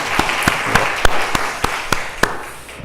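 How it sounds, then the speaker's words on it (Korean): A church congregation claps together in a short burst of applause, sharp overlapping claps at a moderate distance, loud at first and then thinning out. "박수 한번 치겠습니다."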